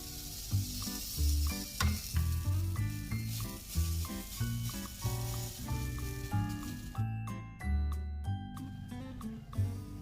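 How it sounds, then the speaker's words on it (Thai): Thai banana dessert batter fries in oil in an ordinary hot pan, giving a steady, close sizzle throughout with background music playing over it. "แต่ถ้าใช้กระทะธรรมดาเนี่ยก็ให้ใส่น้ำมันลงไปทอดนะคะ"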